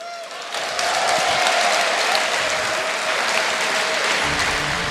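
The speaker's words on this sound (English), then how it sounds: "You guys should give yourselves a round of applause." Loud, dense applause from a large audience at a StarCraft 2 event, swelling after a brief start and holding steady throughout.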